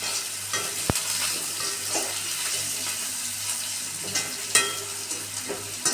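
Bitter gourd with salt, chili powder and oil fries in a pan while being stirred, a constant close sizzle punctuated by scraping and a sharp utensil knock, no talking.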